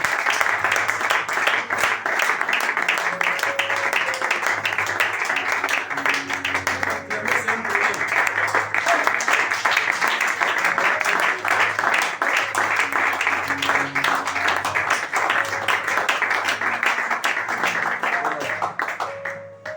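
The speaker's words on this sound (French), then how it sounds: "Acclamez très fort pour la gloire de Dieu" A church congregation applauds loudly and continuously at a Sunday service, a dense wash of clapping with music and voices running underneath.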